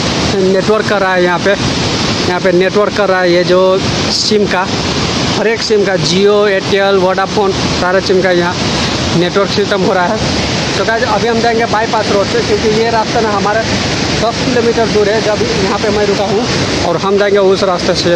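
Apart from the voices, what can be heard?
rushing river water near a dam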